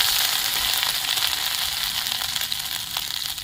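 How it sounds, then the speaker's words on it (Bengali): Loud, steady sizzling of dried red chillies and five-spice seeds hitting hot oil in a wok, a dense crackling hiss close by with no voices. "কড়াইয়ের তেল গরম হয়ে গেছে শুকনো লঙ্কা দিয়ে দিচ্ছি"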